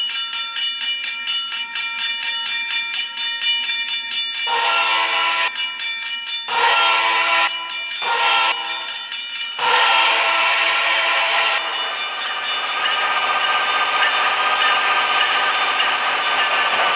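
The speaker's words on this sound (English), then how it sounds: "No, there actually is a train." A train passes a railroad crossing, its horn blaring in repeated long blasts that start and stop, followed by a sustained rumble of rail cars rolling by close and loud without any voices.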